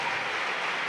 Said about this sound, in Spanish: La primera en marcharse Alexia, eso parece, ante la ovación del público.